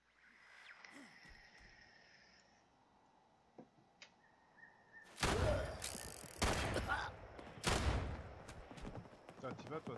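Several loud, booming shotgun blasts from a video game, each followed by a short decay, erupting in the second half after a quieter stretch with some speech.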